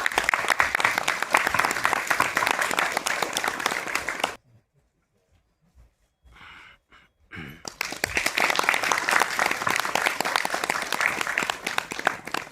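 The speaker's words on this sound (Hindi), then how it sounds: "एक बार जोरदार तालियां हो सर।" An audience at an orientation course opening ceremony gives loud, sustained applause. It breaks off into a brief near-silent gap with a few faint sounds, then resumes just as strongly.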